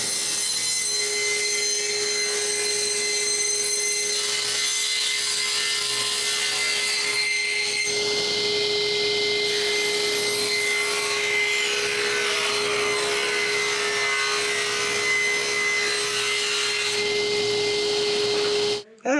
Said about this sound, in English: it's time to cut the quarter round moldings out of it